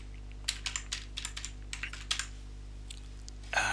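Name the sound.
typing a password on a computer keyboard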